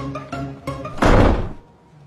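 A door is pushed shut with a loud, heavy thunk that has a short rumbling tail. Brief tonal sounds come just before it and the room goes quiet right after.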